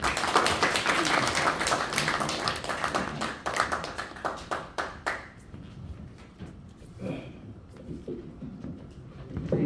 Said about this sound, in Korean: 뜨거운 격려 박수 부탁드리겠습니다